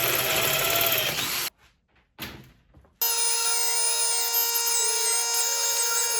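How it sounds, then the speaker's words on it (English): A pneumatic air tool enlarges holes in custom intake manifold runners for a twin-supercharged 4-litre inline six, first as a loud grinding whir, then brief pauses and a short burst, ending in a steady high-pitched machine whine. "I use the air tool to get the holes to exactly the right size"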